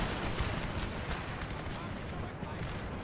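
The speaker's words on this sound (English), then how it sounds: "Let's make sure that we fire pistols just at the right moment" A cavalry pistol volley rings out in the Total War: 30 Years War game, a dense rolling crackle of many gunshots layered over continuous battlefield din and rumble.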